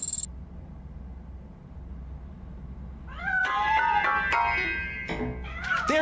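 A cat meows in a Robocop video game, first near silence, then a run of several loud, drawn-out, wavering meows close by, with no talking.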